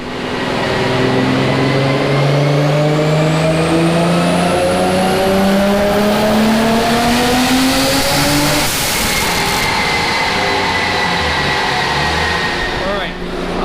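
Full-throttle pass in a Nissan R32 GTR running boosted on ethanol, its engine roaring loud and close with rising revs through gear changes and a brief break in the note near the end.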